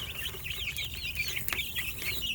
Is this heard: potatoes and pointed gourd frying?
no